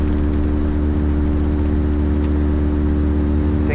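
A Tecnam P2006T aircraft engine running steadily in flight after a restart, a loud continuous drone with strong low harmonic hum, constant throughout with no talk.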